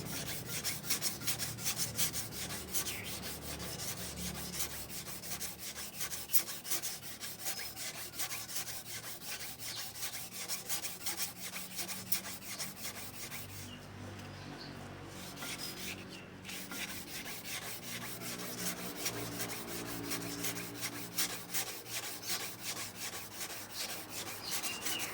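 Continuous rapid scratchy rubbing of sandpaper against an engine flywheel, close and steady, with a brief pause midway before the strokes resume.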